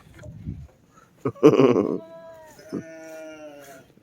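Sheep bleat twice, a wavering nasal cry followed by a longer drawn-out bleat, fairly close with a bit of background rustle.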